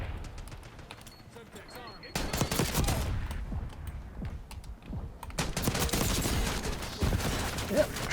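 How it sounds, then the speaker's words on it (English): Video game shotgun gunfire during a match, a triple kill, heard as bursts of sharp blasts amid busy game sounds and clicks, moderately loud over a noisy background. "Yep, triple kill with a shotgun."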